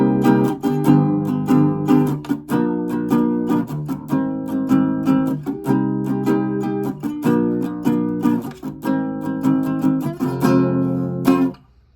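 Guitar playing the bridge transition of a song, strummed chords ringing in a steady rhythm with repeated accented hits, played alone and close, ending with a final stroke.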